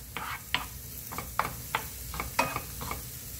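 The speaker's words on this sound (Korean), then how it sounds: "새우가 3분의 1만 익도록" Shrimp being lightly stir-fried in sesame oil over medium heat, a quiet sizzle broken by a series of regular scraping strokes of a spatula against the pan, close and without voices.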